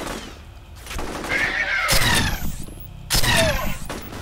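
Gunfire in the shooter F.E.A.R., sharp bursts of shots in two clusters with ringing debris and echoing impacts between them, loud and close.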